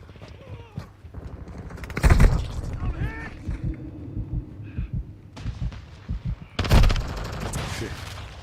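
Gunfire bursts in Call of Duty Modern Warfare II multiplayer, loud shots cracking around 2 and 7 seconds amid scattered game effects and radio-style voice callouts.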